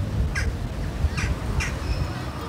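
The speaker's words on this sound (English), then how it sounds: "One of the loudest noises I could hear was a bird." Outside Rotterdam's main station, a crow-like bird caws three times in short, hoarse bursts, spaced apart and fairly clear above a steady low hum of outdoor background noise.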